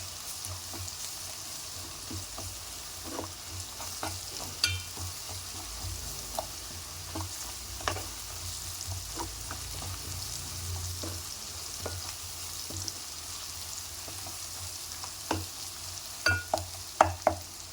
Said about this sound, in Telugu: ఒక స్పూను అల్లం వెల్లుల్లి పేస్ట్ అది పచ్చివాసన పోయే వరకు ఫ్రై చేయండి